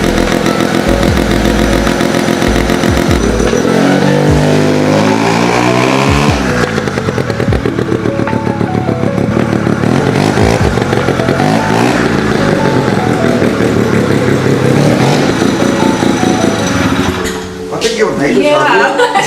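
A Hustler Badboy mini chopper engine revs loudly with a raspy, rising and falling drone close by, while people chat over it; it drops off near the end.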